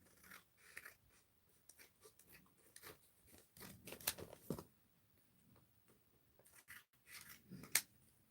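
Scissors snip through a craft transfer sheet in a series of soft, irregular crunching cuts, quiet and close, with occasional louder snips and paper rustling.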